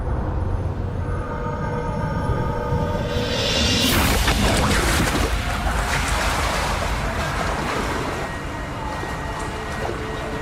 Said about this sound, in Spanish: El simulador recrea olas de 3 metros que son bastante comunes cuando un tifón azota la bahía de Osaka.